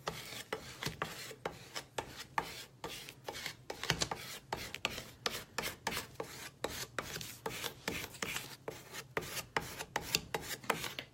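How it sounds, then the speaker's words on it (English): A squeegee is pushed repeatedly over adhesive vinyl laid on a ceramic tile, making quiet, close, rhythmic scraping rubs in quick regular strokes, with no talking. "Let me make sure this is all squeegeed down."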